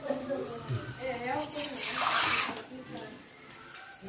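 Water splashing and pouring into a cooking pot of masala for goat intestine curry, rising in the middle then easing off, with people talking nearby over it.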